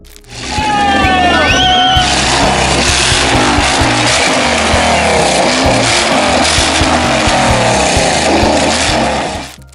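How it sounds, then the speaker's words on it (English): A loud engine of a monster motorcycle on a handmade frame roars close by, revving and growling continuously with a rough, heavy tone almost the whole time. "A motorcycle that doesn't purr, it growls like a war machine."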